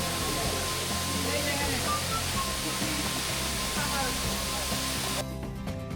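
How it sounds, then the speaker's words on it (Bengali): Madhabkunda waterfall in Bangladesh, dropping about 162 feet, makes a steady, dense roar of crashing water close by that fills the whole stretch and eases slightly near the end. "যার পানি একশো বাষট্টি ফুট উঁচু থেকে ক্রমাগত ভয়ঙ্কর গতিতে নিচে পড়ছে"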